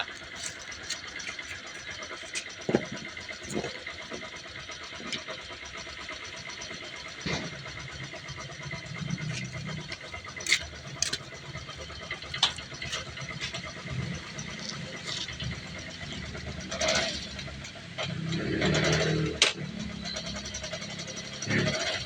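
A Yamaha YTX motorcycle engine, fairly faint, starts and then idles with scattered clicks and knocks before swelling into louder revving toward the end, with some talk in the background.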